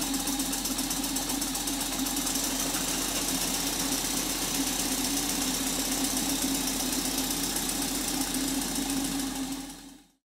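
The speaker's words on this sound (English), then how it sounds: "even at this fairly low pressure, this engine is very powerful" A small model steam engine runs at a steady, rapid chugging beat, continuous and close, then cuts off abruptly at the end.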